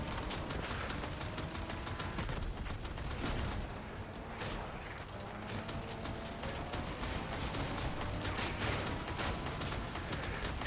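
Sustained gunfire in the vehicle-combat game Crossout, with dense rapid shots from destroyer weapons running almost continuously throughout, loud and busy with no talk over it.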